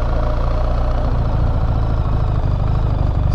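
A BMW R1300GS motorcycle engine runs steadily near campers, a close, constant low drone and throb with no voices.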